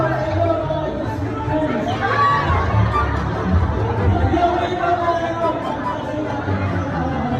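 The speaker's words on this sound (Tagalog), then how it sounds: "pumunta na kami dun sa court kasi ang dami na naghihintay na tao" A large, dense crowd at a basketball court chatters and murmurs continuously, a loud, steady babble of many voices close by with no single voice standing out.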